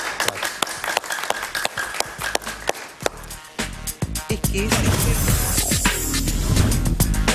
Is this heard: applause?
yes